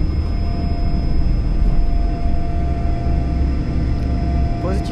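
A Learjet 45 taking off from Montreal Mirabel, heard from the cockpit as a steady, loud engine roar and rumble with a constant tone running through it, while crew voices speak over it.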